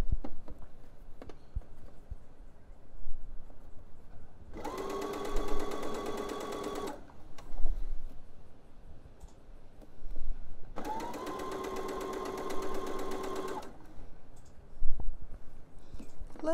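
A sewing machine stitches elastic onto a pair of scoop short knickers in two separate bursts of fast, even whirring, each lasting a few seconds. Quiet clicks and handling noises fill the gaps between the bursts.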